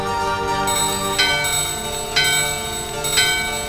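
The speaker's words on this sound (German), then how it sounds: "Beide Glocken läuten im Einklang." Two bells from Final Fantasy 9 ring together in unison, sounding a sustained metallic tone with three distinct struck peaks about a second apart, loud and close with no voices.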